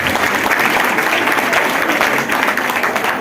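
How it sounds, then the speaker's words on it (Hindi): A hall full of women at an annual convention of a Brahmin women's association breaks into loud, sustained applause, dense and steady clapping filling the room with a faint murmur of voices underneath. "इसलिए हमारे जोर से ताली आपको दी है।"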